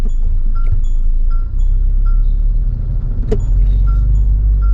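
A Mahindra Scorpio-N diesel automatic pulls away, its engine a low steady rumble inside the cabin with a deeper swell near the end, accompanied by faint periodic indicator-like ticks.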